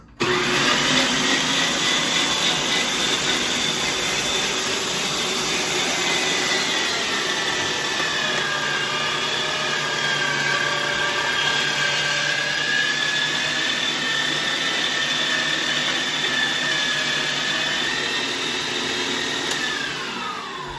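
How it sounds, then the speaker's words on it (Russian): An electric meat grinder minces lamb with onion and garlic, a loud continuous motor whine and grinding roar that runs steadily for about twenty seconds without talking. "теперь мы будем это пропускать все через мясорубку"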